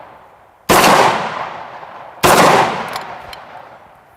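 Two deafening 10 gauge shotgun slug blasts fired outdoors, about a second and a half apart, each a sharp loud crack with a long rolling echo tail.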